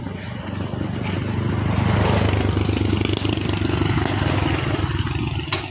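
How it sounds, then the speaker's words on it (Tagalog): Motorized tricycle passing by on a street, a loud rumbling engine with rattling clatter that swells and holds, then eases slightly. "May tricycle na naman mga ka-idol na dumaan."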